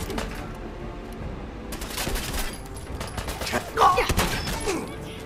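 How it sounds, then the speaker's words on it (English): Double-barrel shotgun blasts from Fallout 4 combat, several sharp reports scattered among other in-game gunfire and thuds, with a brief burst of louder shots near the end over busy background noise. "Try to finish these guys off quickly with the double barrel."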